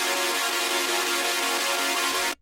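Chopped seven-note supersaw synth chords for a drop, played alone as a dense, bright, steady sustained wall with a rapid stuttering chop pattern, loud throughout before cutting off abruptly near the end.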